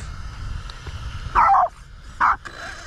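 A dog barks twice outdoors at an off-road RC car speed run, two short sharp barks close by about a second apart over faint background noise.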